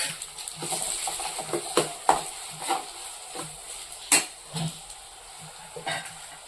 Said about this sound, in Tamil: அந்த மசாலாலாம் நல்லா எண்ணெயிலே நல்லா வதங்கிடுச்சு.